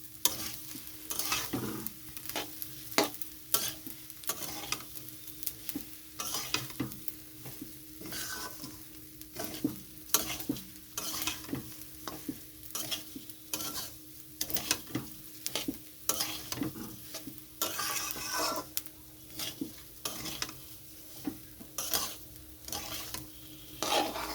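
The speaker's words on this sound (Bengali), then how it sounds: "কাজু আর কিশমিশ দেওয়ার পরে আরও একটু ভাজতে হবে যেহেতু চিনি দেওয়া আছে তো বারবার এরকমভাবে নাড়তে হবে" Cashews and raisins frying with sugared sweet pulao in a pan, stirred again and again, giving repeated scraping strokes over a steady low sizzle with no one talking.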